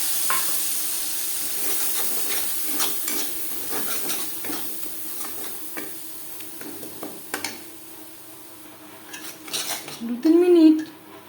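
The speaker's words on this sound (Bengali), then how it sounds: "দশ পনেরো সেকেন্ড জিরে ভেজে নেওয়ার পর দিয়ে দেব নারকেল ও কাঁচা লঙ্কার পেস্ট" Coconut and green chilli paste goes into hot oil with frying cumin seeds and is stirred, giving a soft sizzle under scattered spoon scrapes and clinks against the pan, with a louder clatter of metal near the end.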